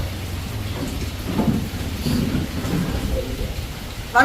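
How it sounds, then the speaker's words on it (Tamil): Heavy rain pours down in a Jaffna village, a dense, steady hiss with low rumbles of thunder rolling underneath and a sharper crack at the very end. "மழை காடுமே"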